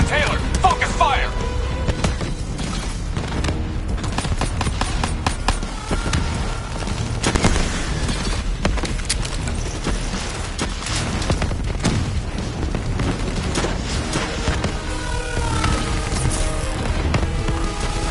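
Gunfire and heavy booms crowd a Black Ops 3 campaign battle, sharp repeated shots and explosions over dense combat noise, with voices calling out amid the firing.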